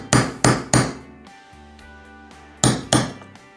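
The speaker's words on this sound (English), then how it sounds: "So I'm just gonna hammer it down" A hammer drives down a bent nail in a woodworking project, three sharp metallic strikes in quick succession, a brief ringing pause, then two more close, loud blows.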